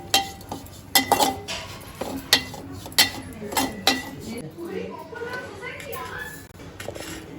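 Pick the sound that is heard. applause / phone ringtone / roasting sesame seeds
roasting sesame seeds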